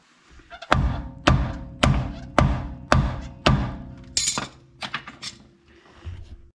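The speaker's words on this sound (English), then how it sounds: "Yeah, I can smack with a hammer." A hammer strikes a brake backing plate on a 1955 Ford Customline during a front disc brake swap: six loud, evenly spaced metallic blows close by, then a few quicker, lighter knocks and a clink.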